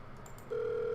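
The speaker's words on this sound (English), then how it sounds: "It's ringing." A phone in the video game The Letter gives a single steady ringing tone that starts halfway through and holds, clear and close, with no voices.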